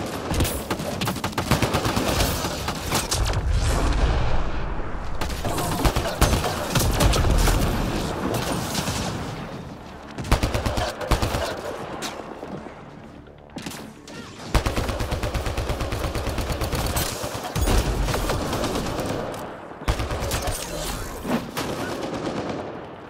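Gunfire in Mass Effect: Andromeda, dense bursts of rapid automatic shots and booms in long loud stretches with short lulls between them, occasional voices underneath.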